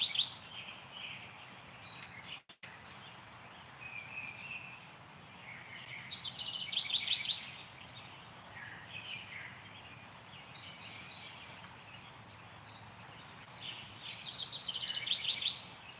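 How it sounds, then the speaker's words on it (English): Birds chirp and sing at a distance in bursts, with trilling calls clustering twice, over a quiet outdoor background. "The birds are singing in the background."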